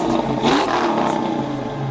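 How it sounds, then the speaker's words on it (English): A 1993 Ford Mustang Foxbody with a 5.0 V8 revs hard and close, its engine note rising and falling over about two seconds with a rough, loud exhaust tone and no talking. "Rev it up!"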